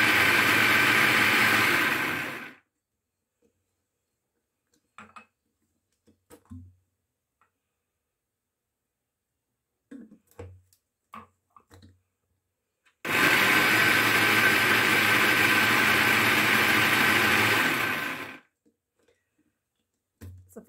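An electric mixer beats cake batter as vanilla and oil are added bit by bit, running in two loud, sustained whirring bursts separated by a long quiet gap with scattered small taps and clinks.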